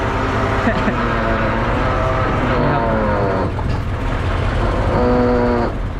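A Makro 200 tractor backhoe climbs up onto a trailer, its diesel engine droning loud and steady with rising and falling revs throughout, close by and with no talk over it.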